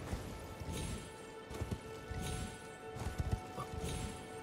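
Rapid thudding hoofbeats of a horse galloping in the Elden Ring video game, rhythmic clip-clop impacts repeating in quick clusters over a steady background wash of game ambience.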